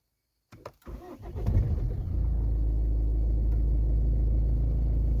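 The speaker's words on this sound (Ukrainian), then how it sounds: "Буду робити перший запуск після заміни мостила" A Ford Focus MK3 with a 1.6 TDCi 115 hp diesel engine cranks and fires up after an oil change, then settles into a deep, steady, close idle rumble with no talking.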